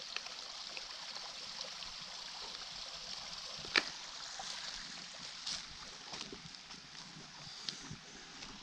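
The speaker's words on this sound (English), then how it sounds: "There's all these dams along this trail for this creek." Creek water running past small dams along a mountain hiking trail on the Mt Wilson loop from Chantry Flats, a steady soft broadband rush with occasional faint splashes and clicks, no voices.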